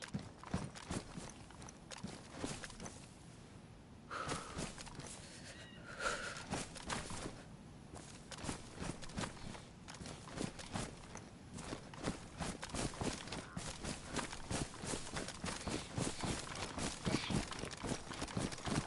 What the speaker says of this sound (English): I swear I hear footsteps.